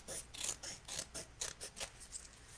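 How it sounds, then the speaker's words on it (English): Scissors snip away excess material on a folio photo album, a rapid series of about ten crisp, close cuts with a faint rasp, sharp and steady, with no voices. "I'm just going to cut it off."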